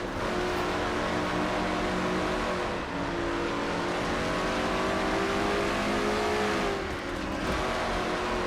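A stock race car engine at Bristol roars continuously from on board, loud and sustained at high revs, with slight dips where the driver lifts briefly, no voices.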